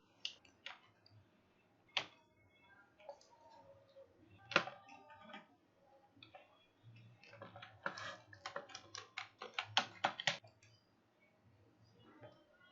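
Computer keyboard keys pressed in scattered clicks and short flurries while editing keyframes in video software, close and fairly quiet, with a quick burst of typing near the end.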